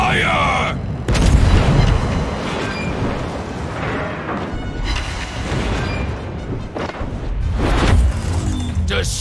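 Naval guns in World of Warships fire in heavy booming blasts, several loud thumps rolling over dense rumbling battle noise, with a voice speaking over parts of it.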